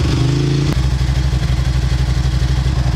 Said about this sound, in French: on va démarrer la moto